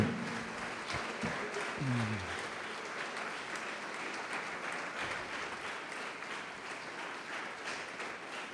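A church congregation applauds during a sermon, sustained, dense clapping throughout the clip, with a brief bit of voice and a tonal sound early on beneath it.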